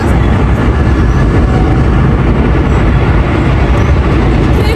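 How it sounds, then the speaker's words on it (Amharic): A loud, steady rumble of a train rolling past close by, constant roar with no pauses or voices. "ባቡር እያለፈ ስለሆነ ድምጼ ላይ ተሰማችሁ ይችላል"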